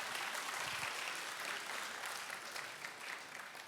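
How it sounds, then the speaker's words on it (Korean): A church congregation at a Friday evening service gives a round of applause, a full, even roar of many hands clapping that sounds slightly distant and holds steady for nearly four seconds. "박수 한번 주십시다."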